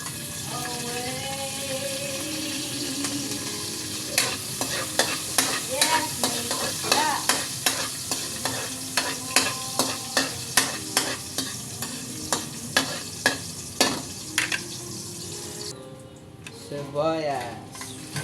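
Garlic sizzling in a hot pan for chop suey, with a metal spatula scraping and clacking in a quick irregular rhythm over a steady fry hiss, close and moderately loud, a brief voice near the start.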